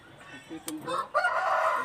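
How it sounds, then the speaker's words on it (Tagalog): A rooster crows once, fairly close, amid a few clucks and soft background noise. "pag naririnig niyo na yung video ko is may background ng mga manok na tumitilahok"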